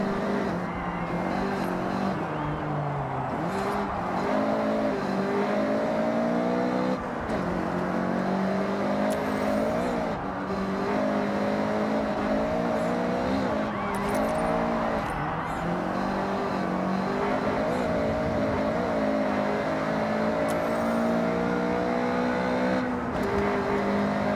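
A stock Honda CRX revs hard during a racing video game, its engine climbing and dropping through repeated gear changes, loud and continuous, with occasional tire squeal and other cars passing, no talk.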